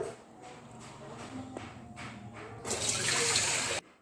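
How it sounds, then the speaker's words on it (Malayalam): Coconut milk is poured into a pot in a steady splashing stream for about a second, after quiet kitchen clatter and a faint voice. "നമുക്ക് രണ്ടാം പാല് ഇതിലേക്ക് ഒഴിച്ചു"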